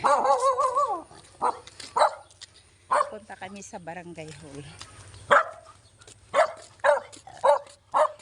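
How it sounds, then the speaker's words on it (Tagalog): A dog barks repeatedly in sharp, uneven bursts, moderately close, while chasing people walking outdoors in hot weather, who talk over and between the barks. "Habol kami ng aso"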